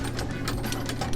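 A light tower's outrigger jack cranked by hand, giving a continuous, close ratcheting click-and-grind with a steady mechanical rhythm and no talking.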